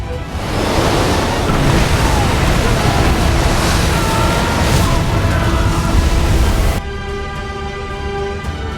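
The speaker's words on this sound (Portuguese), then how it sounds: "Moisés estendeu a mão sobre o mar, e as águas voltaram fortemente a seu lugar." Sea water surges back over a pursuing army in a loud, continuous roaring wash of surf and wind that fills the whole stretch, then drops to a steadier rumble near the end.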